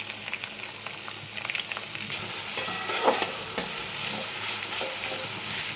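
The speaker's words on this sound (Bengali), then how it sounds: "পেঁয়াজটা খয়েরি করে ভেজে নেব।" Chopped onions frying in mutton fat with sugar and garlic paste while being stirred, a steady close sizzle with scattered scrapes and clinks of the spoon, no talking.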